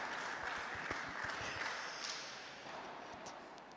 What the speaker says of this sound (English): I'm going to give that a little round of applause